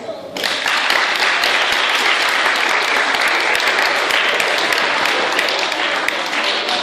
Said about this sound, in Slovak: Tak toto bol veľmi veľký potlesk.